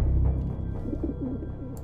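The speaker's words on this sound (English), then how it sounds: "It sounds like pigeons, but where are they?" Pigeons cooing indoors, the soft rolling coos clear and close over a low steady background rumble, with no voices.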